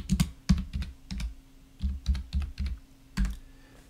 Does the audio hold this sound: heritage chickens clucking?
no